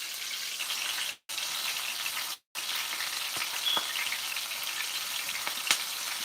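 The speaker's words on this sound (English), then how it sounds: "It's frying it up, y'all" Oil crackles and sizzles steadily as chicken wings fry, close and loud, broken by two brief silent gaps and a few sharper pops.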